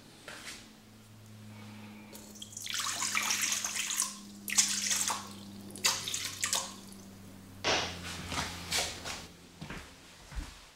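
Water is poured into a bowl on a kitchen scale while baguette dough is being made, a close, bright splashing in several uneven bursts with short pauses and a steady low hum beneath.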